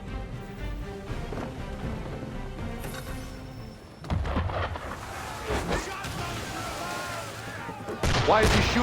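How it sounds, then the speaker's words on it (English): Cannon blasts and musket gunfire boom and crackle in a naval ship attack in Assassin's Creed III, loud bursts layered over game music with voices. "Why is he shooting at us?"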